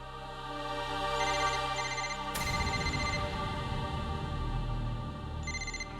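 A household telephone rings in a Hindi TV drama scene, an electronic ringtone with repeated tonal trills, moderately loud and steady, with a brief sharp click midway and no talking over it.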